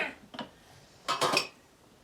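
A few metallic clanks and clatters of pots being moved, with short bright knocks separated by quiet gaps, close by.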